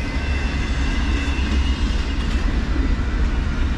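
CSX manifest freight train passing close by, with graffiti-covered cars, a loud continuous rumble and rhythmic wheel clatter with faint squeals.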